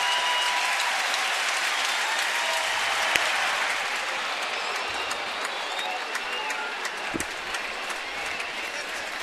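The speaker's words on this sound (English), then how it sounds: "there's a groundswell of noise now from the big crowd with the bases loaded" A big baseball stadium crowd swells into a sustained, loud roar of cheering with the bases loaded and two outs, a dense wash of noise filling the whole stretch with a few sharp claps and shouts rising above it.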